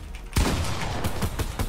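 Rapid bursts of gunfire in a Fortnite match, a loud, dense volley of overlapping shots cracking close by after a brief quieter moment.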